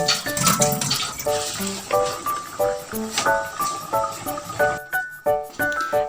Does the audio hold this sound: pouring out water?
yes